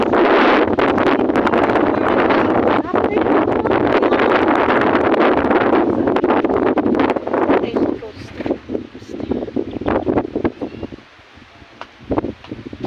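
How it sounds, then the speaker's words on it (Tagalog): Strong gusty sea breeze in Davao City, Philippines buffeting the microphone, roaring steadily before easing into softer, intermittent gusts near the end. "Sea breeze."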